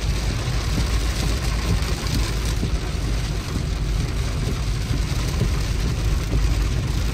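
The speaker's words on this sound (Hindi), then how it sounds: "तेज आ गई बारिश" Heavy rain roars in a steady, dense wash of noise, constant and loud throughout, with no voices.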